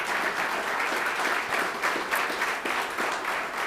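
A room full of people applauding staff at a mayoral State of the City address in Elmhurst, steady dense clapping sustained throughout without letup.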